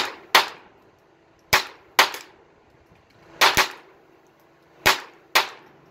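Gunshots ring out on a shooting range firing line, sharp close cracks with ringing tails, seven shots arriving in irregular pairs and singles over a few seconds, no talking.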